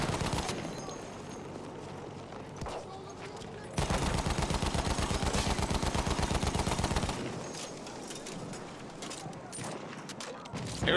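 Anti-aircraft guns firing in a video game: rapid, dense bursts of gunfire, a sustained loud rattling stretch in the middle, with continuous rumbling noise before and after.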